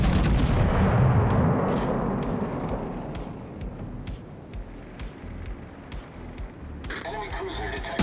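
A heavy naval gun salvo in World of Warships booms loudly and rumbles away over a few seconds, followed by a regular ticking pulse and a fresh burst near the end, with a voice in the background.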